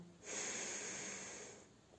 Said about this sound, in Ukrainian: І тепер видихаємо знову носиком.